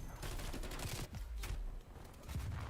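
A Gallo SA-12 shotgun fires in a video game as rapid repeated blasts in dense bursts, with two short pauses, under a faint voice.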